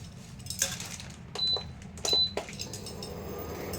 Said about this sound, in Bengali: ফ্রাই প্যানটা বসিয়ে দিয়েছি।